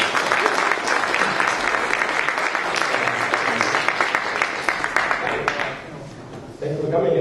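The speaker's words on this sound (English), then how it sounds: "Let's have a big round of applause for Andres." An audience at a campus transhumanist talk applauds a speaker with sustained, dense clapping that fades after several seconds, followed by a voice starting to speak.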